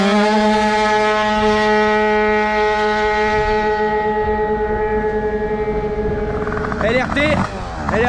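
A new engine in a modified car roars with a steady, harmonic drone that holds, then rises sharply as it revs near the end.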